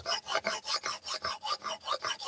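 Blade being sharpened on a diamond stone, a close rhythmic rasping scrape with about a dozen even back-and-forth strokes in quick succession.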